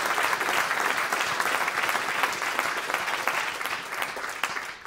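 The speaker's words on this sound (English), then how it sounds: "If we could give him one more round of applause for taking that step." Steady, dense applause from an audience at a justice concert honoring Congressman Andre Carson, sustained and even throughout with no voices over it.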